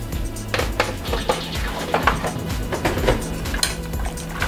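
Rigatoni pasta is stirred in a cooking pot with a bit of corn oil, giving repeated soft scrapes and light metallic clinks in an uneven rhythm, close by and fairly quiet.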